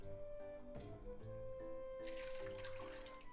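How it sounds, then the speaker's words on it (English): Water is poured into a cooking pot already holding garlic to make a Japanese nabe hot pot broth, a quiet rushing splash that starts partway through over a faint steady hum. "3 cups of water into the pot."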